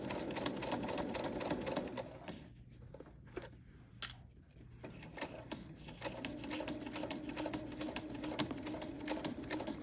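A sewing machine stitching the curved seam of a ruffle bag: a steady fast mechanical whir close up, pausing briefly in the middle before resuming its rapid rhythm, with no talking over it.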